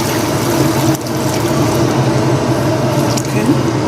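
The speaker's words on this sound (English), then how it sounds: "At this point I'm going to add in the water I need to cook the soup." Water poured into a cooking pot for egusi soup, a continuous splashing, gurgling stream lasting several seconds, close and fairly loud.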